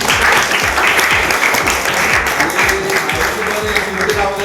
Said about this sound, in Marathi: त्यांचं अभिनंदन करा आणि टाळ्या वाजवा त्यांच्या